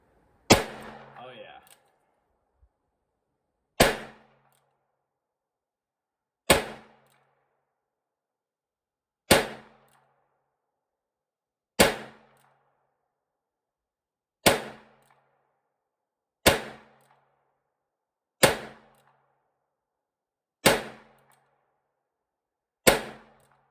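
Smith and Wesson 617 .22lr revolver fired single action with Winchester white box ammunition, ten sharp, loud shots spaced a few seconds apart in a steady rhythm at a range, each followed by brief silence.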